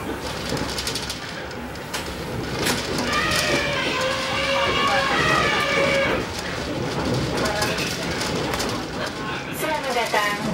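A passenger train, the KA 46 Bima, rumbles along steadily toward Gambir station, with squealing metallic tones from the wheels and people talking nearby.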